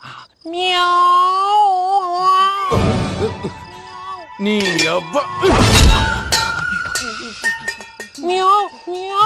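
Loud crashes and clattering of objects tumbling down, in two bursts, mixed with voices and high-pitched cries.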